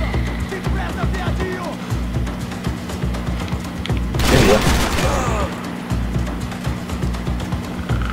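Gunfire in a Max Payne 3 shootout: a steady crackle of shots under game ambience, peaking in one loud close burst around the middle, with someone talking over it.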